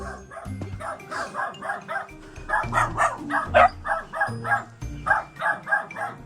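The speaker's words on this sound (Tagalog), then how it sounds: "Madami nga palang aso." Several dogs bark repeatedly in loud, rhythmic bursts close by, with a person's voice mixed in among the barking.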